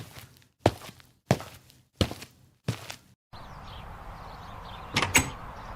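A house door is opened for a visitor arriving at a Super Bowl party, with several heavy thunks and bumps in a row, then a steady room bed of noise and a brief brighter clatter near the end.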